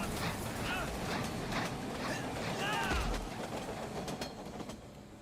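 A cartoon train in an animated Teenage Mutant Ninja Turtles episode rumbles and clatters loudly and steadily, with faint voices mixed in.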